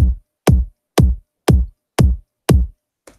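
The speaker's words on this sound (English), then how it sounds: "But just to show you how to layer kicks if you want" Two kick drum samples layered in Ableton Live hit six times at a steady half-second pulse, each a punchy, deep thump that decays quickly into silence, with a faint seventh hit cut off at the end.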